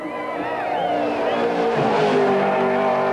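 A race car in the top 10 shootout at the 1991 Bathurst 1000 lapping near the track, its engine note swooping up and down as it works through the corners, loud and close, with faint commentary underneath.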